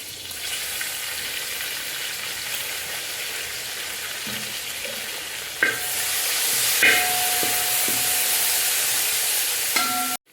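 Cloves, cinnamon, cardamom powder and curry leaves fry in hot oil: a steady hiss that jumps louder midway as the leaves go in, with a few spoon scrapes and clinks close by.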